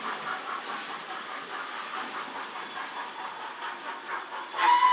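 A model train runs around a layout, giving a steady, faint rolling clatter with a soft hiss, unbroken throughout and a little louder at the very end.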